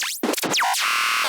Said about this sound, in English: make a kind of like what I call like a glitch machine or a wave machine.